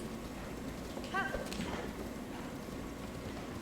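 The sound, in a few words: golden horse hooves in video game Zelda Tears of the Kingdom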